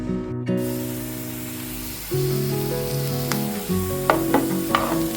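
Sliced onion frying in hot oil as a tempering for Angamaly mango curry: a loud, close sizzle that jumps when the onion goes in, then crackles with sharp spitting pops. Some tonal background sound runs underneath.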